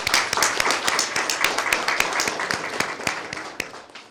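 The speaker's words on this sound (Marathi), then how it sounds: "सो त्यांच्यासाठी टाळ्या." An audience at a twelfth-anniversary celebration of a wellness centre claps for a website team, with loud, dense applause and crisp individual claps up close that thin out and fade over about four seconds.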